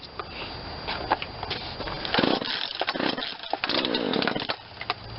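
A Poulan Wild Thing 40cc two-stroke chainsaw with an 18-inch bar and a replacement carburetor is pull-started and catches, its loud, close engine buzzing and revving unevenly for several seconds.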